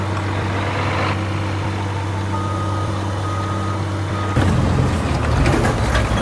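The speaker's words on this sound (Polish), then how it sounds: "fajna ta śmieciarka jest" A garbage truck in a video game idles with a steady, low engine drone. The engine note changes partway through and grows a little rougher and louder until the end.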